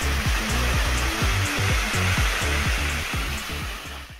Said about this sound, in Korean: 여기가 구만폭포입니다.